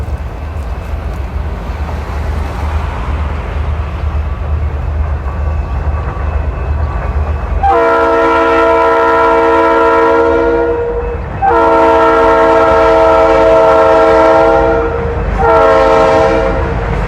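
Train passing a railroad crossing in Southeast Michigan, a loud rumbling pass with the multi-tone horn sounding in three long blasts, the second longest, close and dominant.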